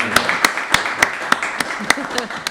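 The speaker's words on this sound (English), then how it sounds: "we don't often do a round of applause here at the Laircast, but this was a courageous choice" Steady rhythmic hand clapping from one or a few people, about two claps per second, sharp and close, applauding a podcast guest in a small studio setting.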